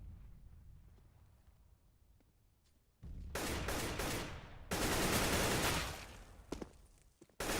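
Rapid gunfire from the video game Crunchy, a quiet stretch giving way to loud, sustained automatic bursts that dominate the second half and continue to the end.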